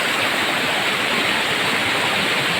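Water pours steadily over a large waterfall on a trail in Aurora Province, a dense, unbroken rush of broadband noise, loud and close, with no voices.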